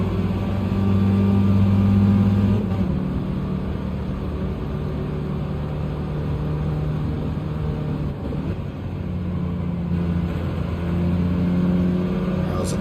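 A racing car engine in Gran Turismo 7 roars steadily and loud, holding high revs with slight pitch shifts as it drops and climbs through gears, under a constant layer of game noise.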